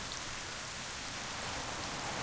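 Steady rain hisses in the video game Black Desert Online, a dense, even wash of falling drops with no voices over it.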